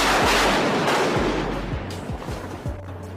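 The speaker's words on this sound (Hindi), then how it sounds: "पीछे एक धमाका हुआ और एक जोरदार बिजली इनके जस्ट बाजू में गिरी" Nearby lightning strike and thunder, heard as a dense loud roaring rumble with low rolling booms that fade slightly over a few seconds, with no talk.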